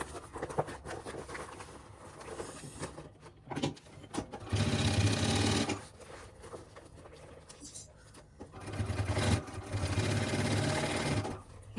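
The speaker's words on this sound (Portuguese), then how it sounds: "Coloca, vamos lá costurar." A sewing machine stitches a fabric pouch for an expandable toiletry bag. Quieter handling comes first, then two long, loud runs of fast, steady motor stitching with a short pause between them.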